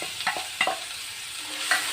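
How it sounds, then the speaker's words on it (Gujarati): Ginger, chilli and garlic paste frying in a pan with cumin and asafoetida, a light sizzle broken by a few quick stirring scrapes, close and fairly quiet. "હવે આપણે આદુ મરચાં લસણની પેસ્ટ એડ કરી દઈશું।"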